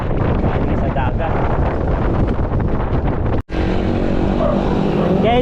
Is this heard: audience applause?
no